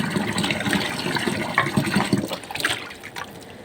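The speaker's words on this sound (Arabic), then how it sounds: "اغسلها مره واثنين وثلاثه، خليها زي الفل" Cow trotters are rinsed under running water in a kitchen, with a continuous close gush and splash of water that flows steadily and eases slightly toward the end.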